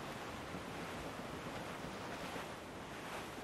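Steady wind and rolling sea surf in the Caribbean sailing game Assassin's Creed IV: Black Flag, a continuous full-band wash of waves and gusts at even loudness with no talking.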